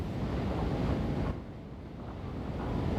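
Ocean waves wash in the pirate tavern map of Escape Simulator 2, a steady, fairly quiet surf hiss with wind. It briefly softens partway through, and no one speaks.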